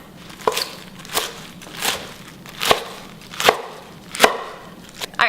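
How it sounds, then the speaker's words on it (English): A knife chops a bunch of chard on a cutting board in a home kitchen with about seven crisp, evenly spaced strokes, each ringing briefly, close up with no talking. "chop up our chard"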